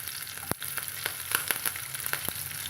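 Chopped green chillies sizzle in hot oil with mustard seeds and fennel for a cassava masala bonda, a steady close frying hiss broken by a few sharp pops and crackles.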